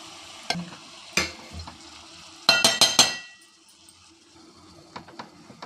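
Brinjal and salt fish being tossed in a frying pan: a low steady sizzle broken by sharp clinks and a quick burst of rattling scrapes as the pan is shaken, then lighter taps.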